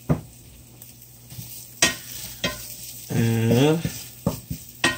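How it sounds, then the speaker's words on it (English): A utensil scrapes and stirs butter and flour in a pan for quick curry chicken, making several short scraping strokes with a faint sizzle beneath and a brief voice in the middle. "so I'm just going to keep stirring this"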